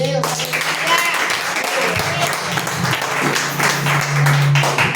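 Audience clapping and applause fill the room, mixed with voices and cheering throughout.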